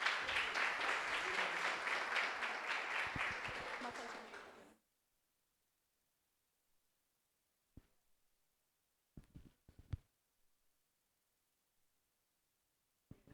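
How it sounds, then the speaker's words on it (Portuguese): Congregation at a Santa Ceia church service claps and applauds loudly for about five seconds, then the applause stops and only faint, scattered sounds follow in near silence. "As palmas louvam o Senhor pela vida do Dani."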